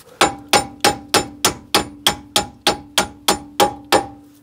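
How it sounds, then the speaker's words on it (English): A soft metal hammer strikes a threaded part on an Audi A4 thirteen times in a steady rhythm, with each loud, close blow leaving a short ringing clang. "I'm hitting... hard metal with a soft metal"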